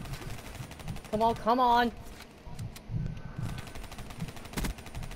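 Sustained automatic gunfire in Call of Duty: Black Ops III rattles in a fast even rhythm through the whole stretch, close and steady, while a player talks over it.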